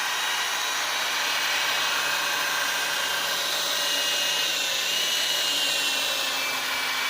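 Polishing a Jaguar S-type headlamp lens with a sponge pad and compound after sanding, a loud, steady whirring from a machine polisher, running without pause and with no talking.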